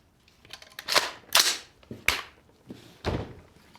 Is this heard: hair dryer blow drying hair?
no